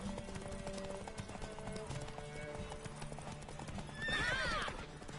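A horse gallops with rapid clip-clopping hooves in Witcher 3, then gives a loud, close whinny near the end, over layered game music and background voices.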